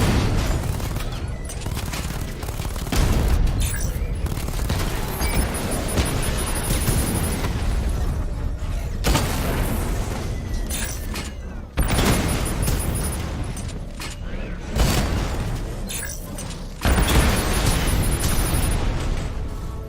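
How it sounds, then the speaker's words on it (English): Heavy combat from Batman: Arkham Knight, with near-continuous loud explosions, bursts of gunfire and booming impacts in dense, overlapping waves, briefly dipping before new blasts surge back in. "Taking fire!"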